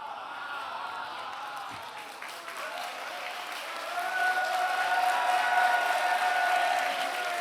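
Audience applause at a theme park pass event, a steady broad wash of many hands clapping that swells louder partway through and holds, heard alone without speech.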